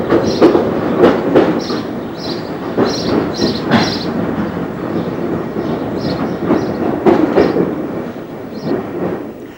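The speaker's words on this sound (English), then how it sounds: "the train trundles into Ongar Station" A train, part of a London Transport branch line service, trundles into Ongar Station. Its wheels give a steady, loud, close rumble, with rhythmic clicks and some squealing from the rails.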